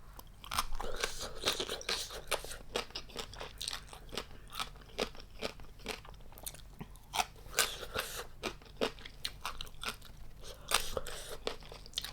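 Crunchy chewing of pickled Spanish red shrimp, a steady run of close, crisp bites and crackling mastication with no talking over it.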